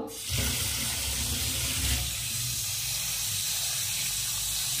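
Running tap water pours steadily into a sink over cut Malabar spinach leaves set to soak, a loud continuous hiss and splash with no speech.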